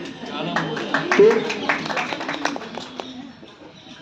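Audience applause at a Hindi poetry recitation, a burst of clapping that swells early and then thins out over a few seconds, with a voice talking faintly underneath.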